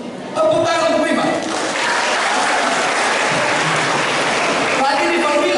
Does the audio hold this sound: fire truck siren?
no